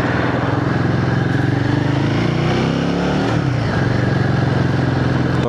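A Royal Enfield Guerrilla 450 motorcycle engine roars loudly and continuously up close, its rasping note climbing and shifting as it pulls hard.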